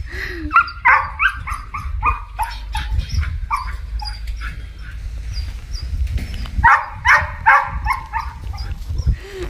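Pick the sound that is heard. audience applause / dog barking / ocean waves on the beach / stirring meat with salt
dog barking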